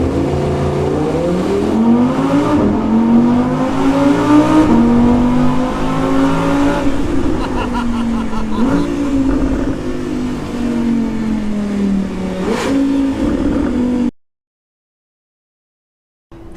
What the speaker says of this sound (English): The glory of an R8 V10 Plus in a tunnel.